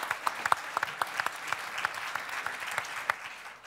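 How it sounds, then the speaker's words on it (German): Applause from an audience at a culinary panel discussion, a moderate crowd clapping with distinct individual claps standing out, steady and fairly close, with no talking over it. "der Applaus ist da."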